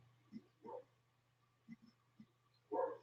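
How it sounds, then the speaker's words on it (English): A dog barking somewhere in the background, a handful of short, faint, scattered barks over a low steady hum, with no talk. "If you guys can hear that bark in the background, that's another dog."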